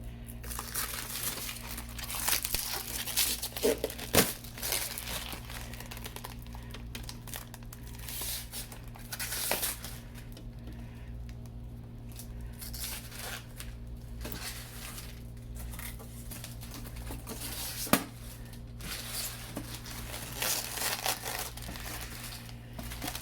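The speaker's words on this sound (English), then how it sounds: "let's peel all this protective stuff away from it" Protective plastic film is peeled off a new white Sizzix Big Shot Switch die-cutting machine, with intermittent crinkling and tearing rustles up close over a low steady hum and one sharp tap near the end.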